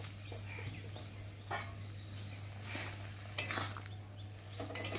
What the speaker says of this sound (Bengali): আর এখন আমি শুক্তোটার মধ্যে ঢেলে দেবো একটু নাড়া দিয়ে একটু ফুটবে